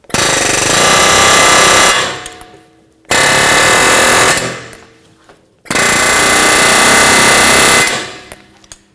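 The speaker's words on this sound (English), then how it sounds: "So air chisel." Three long bursts of loud, rapid pneumatic hammering from an air chisel on a 2011-2018 Volvo S60 front strut and spring assembly, each lasting about two seconds and separated by short pauses.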